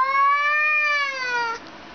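A cat lets out one long, loud, drawn-out meow lasting about a second and a half. The call is close by and heard alone, with no talking over it.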